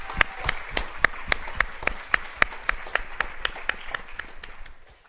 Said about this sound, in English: Can we give another round of applause for our plenary panel?